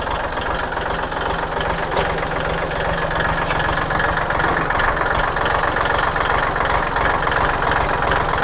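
A Kubota or Iseki walking tractor engine runs steadily close by, a loud, even idling chug with a rapid knocking pulse that holds unchanged throughout, with no talking.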